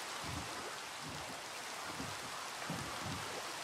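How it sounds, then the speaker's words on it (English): Steady rain falling in the video game Minecraft, a constant dense hiss of drops with soft low patters, close and even throughout with no voices. "And it's raining again."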